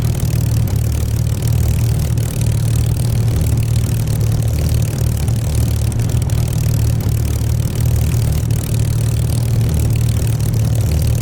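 A Spitfire Mk IX piston engine idles in the DCS flight simulator, a loud, steady low drone with a faint uneven clatter running unbroken throughout, with no voices over it.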